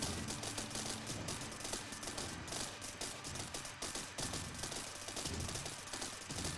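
Cannons firing in the video game TerraTech sound as a dense, continuous clatter of rapid shots and mechanical rattling, steady and fairly loud throughout.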